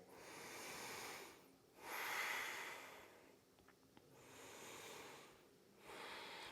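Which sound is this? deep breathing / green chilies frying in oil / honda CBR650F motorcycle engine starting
deep breathing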